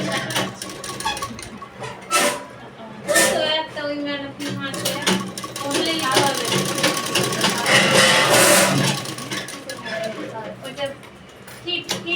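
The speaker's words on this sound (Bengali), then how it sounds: "তো এইভাবে আর একটা সেলাই করে নিলাম।" A sewing machine stitching a sleeve border, running in repeated bursts of rapid mechanical whirring and clatter close by, with someone talking between and over the runs.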